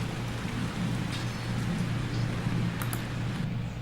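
Steady rain pours in a game setting, a dense even wash of falling water with a low rumbling bed, continuous and fairly loud with no voices.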